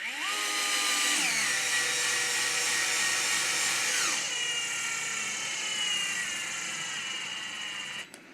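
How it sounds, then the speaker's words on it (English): A DeWalt gyro electric screwdriver drives screws into an Axial Basecamp RC kit, giving a close, continuous high motor whine that shifts pitch as it loads and spins down, with no talking. "I love this DeWalt gyro screwdriver because I don't have to chuck it down"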